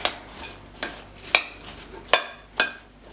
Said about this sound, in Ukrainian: Гарно все перемішуємо.